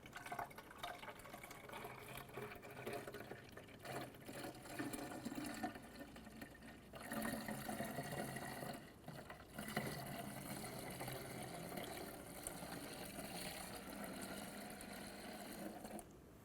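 Coolant pours into the engine expansion tank of a 2006-2013 Chevrolet Impala during a water pump replacement, making a quiet, steady liquid trickle and gurgle that runs without a break.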